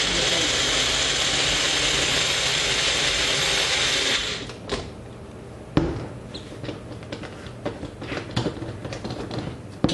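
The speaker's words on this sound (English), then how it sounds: "we screw on the lid on the Magic Bullet, and we go ahead and we give it a whirl" A Magic Bullet blender whirring steadily for about four seconds before stopping, followed by scattered clicks and clatter of handling the container.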